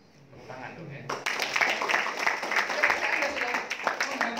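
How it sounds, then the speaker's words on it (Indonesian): Audience applause breaks out during a reseller training seminar in Surabaya, a dense steady wash of clapping from a large crowd that starts abruptly and continues loud and even to the end. "Tepuk tangan dong ya."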